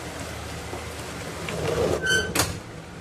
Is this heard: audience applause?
no